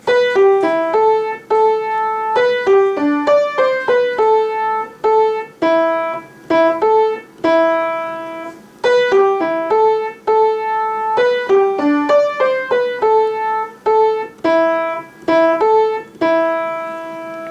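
Solo piano plays the chorus of a song, a steady melodic right-hand line over left-hand notes, clear and close with evenly struck keys and no voices.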